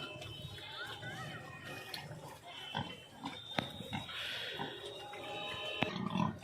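Pigs grunting and snorting at close range amid a busy, noisy village pig farm, with brief sharp knocks and some voices in the background.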